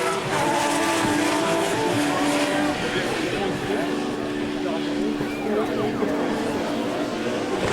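Rallycross cars racing on a very fast circuit at a French championship round in Lavaré, with a continuous loud engine roar and shifting pitch as cars power through a curve, under excited commentary.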